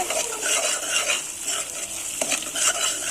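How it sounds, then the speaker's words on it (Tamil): Masala for veg biryani sizzles in ghee and oil while a spoon stirs and scrapes the pan, with brisk, close frying crackle and irregular metallic stirring strokes throughout. "இப்போ இதை நல்லா கலந்து விட்டுருங்க. நெய் தனியாக எண்ணெய் பிரிஞ்சு வரணும். அது வரைக்கும் இதை நல்லா வதக்குங்க."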